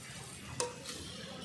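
Pointed gourd (potol) stir-fried in oil in a pan, a soft steady sizzle with a single clear clink of a utensil against the pan, quiet and close with no talking.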